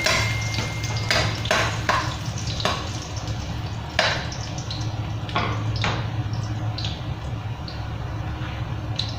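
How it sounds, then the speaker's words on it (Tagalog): Ginger sautéing in a pan for chicken binagoongan makes a continuous close frying crackle with repeated spatula stirs and scrapes and a low background hum. "let's start na mag-gisa ng mga ingredients. Unahin natin ang luya"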